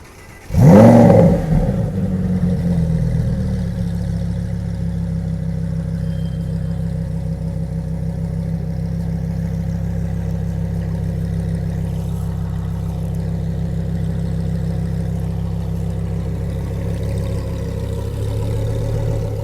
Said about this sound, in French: Et regardez sur les pots d'échappement, Lamborghini Akrapovic. Elle fait un boucan du diable.